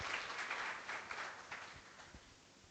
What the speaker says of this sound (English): Please give round of applause to our head of organizing committee